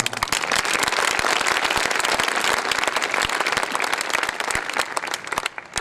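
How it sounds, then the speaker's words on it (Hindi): Loud, dense applause from a large audience at a public gathering in Allahabad, rapid overlapping claps sustained at full strength for several seconds before tapering slightly at the end. "मैं चाहूंगा उनकी शान में जरा जोरदार तालियां।"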